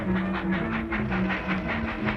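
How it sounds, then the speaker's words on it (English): A departing train in a radio drama rumbles loudly and continuously, a rhythmic clickety-clack pulsing about twice a second over a steady low hum, with no voices. "Come on, the train's going."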